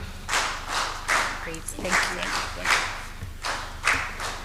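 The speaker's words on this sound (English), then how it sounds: "Round of applause. Until he reaches here, we're just going to keep clapping." Audience clapping at a civil society summit in East Africa, loud and sustained in rhythmic waves of hand claps, with a speaker briefly talking over it.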